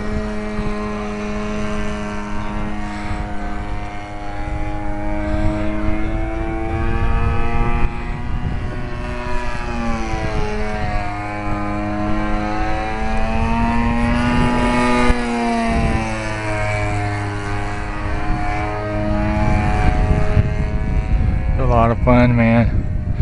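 A loud, buzzy two-stroke chainsaw engine drones steadily as a giant RC Piper Cub model plane flies, its pitch rising and falling as it passes; voices talk briefly over it.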